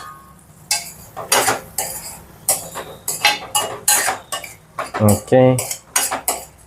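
A pot of South Indian ridge gourd curry with green chillies being mixed, heard as loud, close, irregular clinks and scrapes of a metal spoon against the pot, with a short spoken word partway through.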